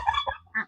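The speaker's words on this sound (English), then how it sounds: "Okay, we got some ducks." Ducks on a farm give a few short, honking quacks close by, with brief pauses between calls and no talking.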